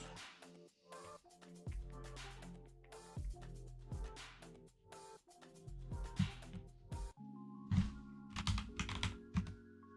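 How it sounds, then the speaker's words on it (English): Computer keyboard being typed on at a desk, a close run of quick key clicks and thumps in irregular bursts, some heavier keystrokes, no talking. "start typing in active promo codes"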